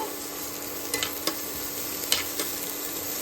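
Onions and green chillies fry on a low flame with a soft, steady sizzle, broken by a few light clicks of a spatula stirring against the pan. Nobody speaks.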